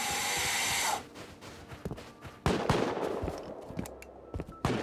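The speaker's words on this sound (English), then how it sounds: "Someone's shooting to the right." Gunfire in the Rust video game, scattered sharp shots off to one side mixed with a loud opening rush of noise and other clatter, moderately close with no talking.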